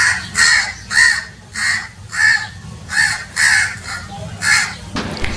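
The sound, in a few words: crow cawing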